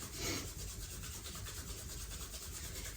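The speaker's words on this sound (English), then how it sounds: "we're just going to rub our hands" Palms rub together in a slow, steady back-and-forth, a soft close dry friction swish during a yoga session, quiet and continuous with no talking.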